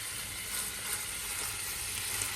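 Sausage frying in a pan for a one-pan dish with mushrooms in tomato sauce gives a steady, even sizzle that crackles softly throughout, with no voices.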